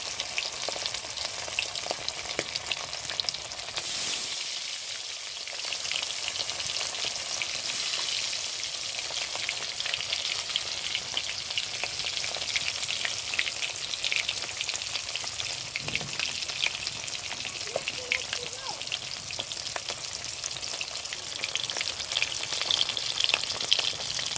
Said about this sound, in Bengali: মাছ প্রথমে মাছ ভাজা করে নিচ্ছি কড়াইতে